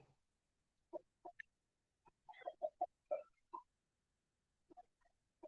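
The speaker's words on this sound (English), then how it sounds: "I hear him clucking over there." A chicken clucks in short, scattered bursts, some single and some in quick clusters, fairly close by in an otherwise quiet farmyard.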